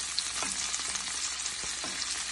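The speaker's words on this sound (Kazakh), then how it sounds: "енді мына шетін қуырып жатырмыз" Food sizzling steadily in a hot pan as its second side fries, a close, even crackle filling the short stretch without any voices.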